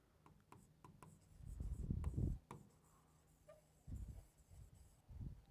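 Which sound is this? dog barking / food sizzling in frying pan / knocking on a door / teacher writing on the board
teacher writing on the board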